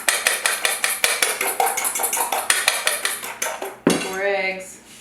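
Cream being mixed into rock cookie dough in a bowl, a spoon knocking against the bowl in a rapid steady rhythm, loud and close, then a brief scraping sound with a short voice at the end.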